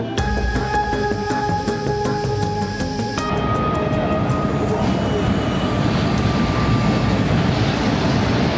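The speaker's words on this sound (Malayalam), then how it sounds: "ഞാനിപ്പോൾ നിൽക്കുന്നത് ഇന്നലെ ശ്രീകുട്ടിയെ രക്ഷിച്ചു കൊണ്ടുപോയ അതേ മെമു" A MEMU passenger train runs with a steady loud rumble and rattle of wheels on track, heard from on board or close by, with a tonal hum early on before the noise grows denser and more uniform.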